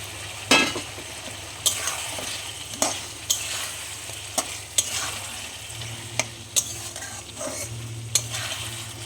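Chopped tomatoes go into a hot frying pan and get stirred, a steady sizzle broken by repeated sharp clinks and scrapes of a utensil against the pan, close and alone without talk.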